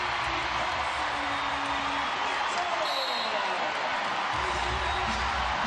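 A home crowd at an Indiana Fever women's basketball game roars after a three-pointer, a loud, steady wash of cheering that fills the arena while commentators talk over it.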